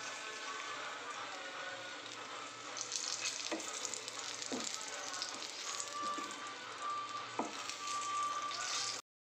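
Stuffed masala green chillies fry in a pan with a steady, close crackling sizzle throughout, broken by a few sharper pops and spits, with no talk over it.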